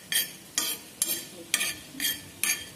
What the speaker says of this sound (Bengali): এগুলো ভালো করে নেড়েচেড়ে লাল করে ভেজে নেব